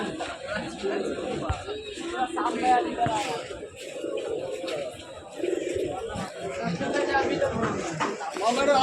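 Pigeons coo amid busy chatter at Kolkata's Tala Haat pet bird market, with many people talking loudly throughout.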